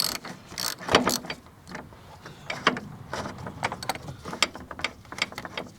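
A ratchet winding out a 13mm bolt on the airbox of a Vauxhall Vivaro, close up, with quick repeated clicking strokes in short bursts and no talk.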